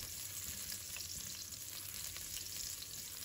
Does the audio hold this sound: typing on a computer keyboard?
no